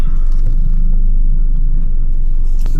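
A BMW X1 F48 pulls away with a low engine rumble heard from inside the cabin, a steady close drone building briefly as the car sets off.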